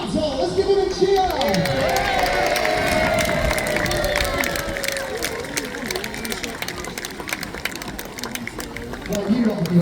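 Crowd in Peasholm Park, Scarborough, cheering the victorious model ships during a naval battle display, a loose outdoor murmur of voices with scattered shouts and clapping while someone speaks over a loudspeaker.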